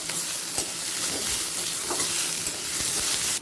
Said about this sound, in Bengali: পেঁয়াজটা হালকা লাল করে ভাজা হয়ে গেছে এই সময় দিয়ে দিচ্ছি টমেটো কুচি